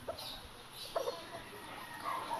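Chickens at a poultry farm give a few short clucks and calls over steady background noise, with one slightly louder burst near the middle and faint calls toward the end.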